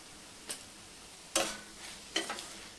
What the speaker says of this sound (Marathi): आता मिक्स करायचं आहे